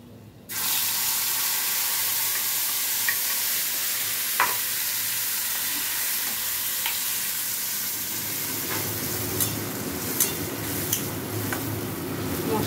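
Spice paste hitting hot oil with tempering of chillies, cumin and whole garam masala for a potato paneer dish, a sudden loud sizzle that settles into a steady close hiss with occasional stirring scrapes, no talk.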